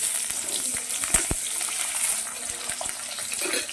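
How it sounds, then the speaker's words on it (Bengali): Chopped potatoes sizzle in hot oil in a pan for a cauliflower dalna, a steady soft hiss and crackle with a couple of sharper pops, close and unbroken, with no voices. "আলুটাও খুব ভালো করে ভেজে নেব"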